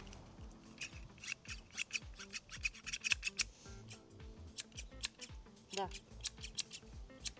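Garden shears for flowers, with a handle that rotates 360 degrees, are handled close up, giving rapid metallic snips, clicks and scraping rubs while a person talks.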